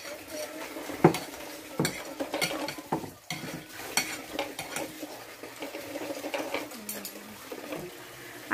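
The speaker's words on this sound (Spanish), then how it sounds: "Ahorita está mezclando muy bien" Egg yolk batter is stirred in a bowl in a kitchen, with irregular scraping and clinking of a utensil against the bowl, close by and moderately loud, with light background kitchen noise.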